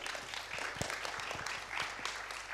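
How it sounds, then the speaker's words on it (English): A conference audience applauds a volunteer, a dense, fairly faint patter of many hands clapping at once with occasional louder individual claps, steady throughout. "A huge applause for her"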